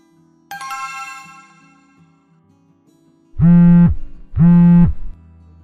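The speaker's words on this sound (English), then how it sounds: "Simon, I'm going to call you now. Answer your phone, please." A phone ringtone chimes twice, loud and close, with a brief melodic jingle playing before it.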